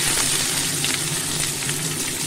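Whole cumin seeds and dried chillies sizzle in hot oil in a pan, a loud, continuous crackling hiss that stays close and steady throughout, with no voices over it.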